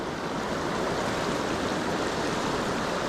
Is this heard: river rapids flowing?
yes